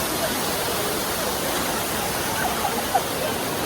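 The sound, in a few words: Siruvani waterfall, water falling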